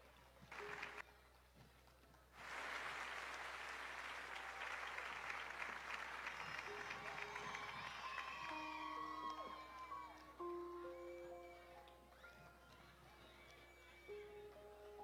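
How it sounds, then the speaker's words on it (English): Applause from an audience welcoming a performer onto a stage, a steady crowd clapping that swells after a short pause and carries on under rising musical tones before tapering off near the end. "A round of applause as we welcome her."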